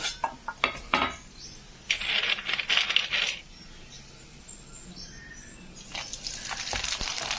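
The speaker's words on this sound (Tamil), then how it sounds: "பாருங்க எப்படி நல்லா சூப்பராக பொறிஞ்சு வருது" Onion vadam (killu vathal) fries in hot oil, giving bursts of sizzling and crackling along with sharp metallic clinks from a utensil against the pan. No one speaks.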